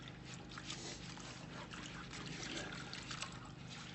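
Running water trickles and splashes as an old J H Williams wrench is rinsed off after soaking in a vinegar and salt solution, a soft, continuous wash at low level.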